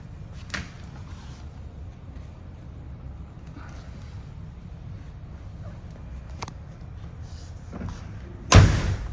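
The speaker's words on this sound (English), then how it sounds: "Doors open and shut, very nice as well." A factory red 1963 Chevrolet Corvette split-window coupe has its doors opened and shut: a few scattered latch clicks and soft thuds, ending in one loud, solid door slam near the finish.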